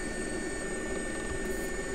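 An SA-342 Gazelle air ambulance helicopter in X-Plane 11, a steady whining turbine drone with a constant rotor hum, even and unbroken throughout, with no talk.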